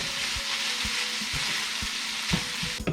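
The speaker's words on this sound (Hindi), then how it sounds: "10 मिनट के लिए हम लो फ्लेम पे छोड़ देंगे ताकि गाजर और कीमा अच्छी तरह मिक्स हो जाए" Carrot and chicken mince cooking in a pan over a low flame, a steady soft sizzle and frying hiss throughout, with occasional light stirring taps, close and alone.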